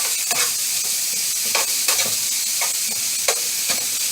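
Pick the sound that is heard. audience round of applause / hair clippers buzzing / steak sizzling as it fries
steak sizzling as it fries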